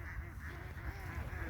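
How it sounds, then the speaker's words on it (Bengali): A flock of domestic ducks heading into the Titas river, quacking and honking faintly at a distance in a steady, continuous chorus over low background rumble. "এই যে দেখেন হাঁসের একটি পাল ছুটে যাচ্ছে নদীতে"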